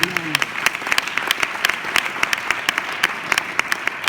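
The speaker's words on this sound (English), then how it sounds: "Can we give them a clap more for them?" A church congregation claps together in a steady burst of applause, the individual claps sharp and rhythmic, filling the room at moderate loudness, with a voice briefly heard at the start.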